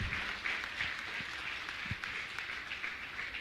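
An audience at a religious gathering applauds to honour trustees, a steady even round of clapping that carries through the whole stretch without a break and without talk over it.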